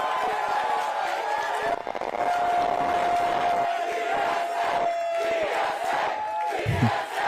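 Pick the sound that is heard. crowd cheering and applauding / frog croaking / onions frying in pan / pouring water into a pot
crowd cheering and applauding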